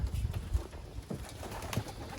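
Racing pigeons coo softly in a loft, a few low rolling calls close by over quiet background rustle.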